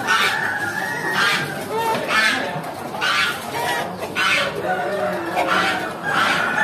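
Repeated loud clucking and calling from several Pelung chickens, in short bursts roughly every second, with a busy market murmur underneath, at the Muntilan animal market in Magelang.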